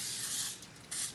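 Two short hissing bursts of butter cooking spray, close up, the first longer than the second.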